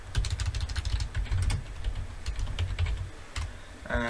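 Computer keyboard typing code for an Android Studio project, a rapid, continuous run of close, crisp key clicks with a few louder strokes, heard alone without speech.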